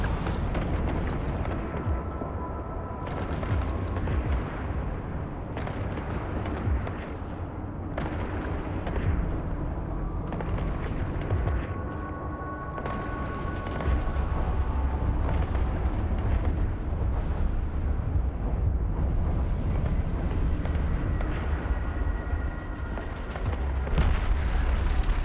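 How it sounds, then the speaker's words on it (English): Explosions in the space game EVE Online rumble continuously, with repeated booming blasts and crackling bursts layered into a loud, dense roar throughout. "I was getting a cool explosion out of that."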